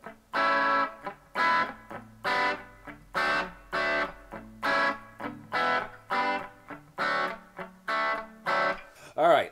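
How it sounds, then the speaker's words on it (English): Electric guitar, a Jackson Dinky through a Nux Mighty 20BT amp, playing a rhythmic run of strummed chords with a light, gritty distortion, each chord clipped short with brief gaps between. "this one's got a hair bit of distortion in it"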